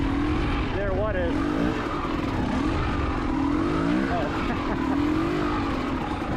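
A KTM 300 XCW two-stroke dirt bike roars steadily while being ridden over rocky trail terrain, its engine pitch wavering up and down with throttle changes, loud and constant, with a rider's voice heard over it.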